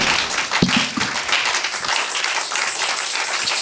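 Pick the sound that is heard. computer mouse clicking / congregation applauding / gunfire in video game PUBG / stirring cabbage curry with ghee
congregation applauding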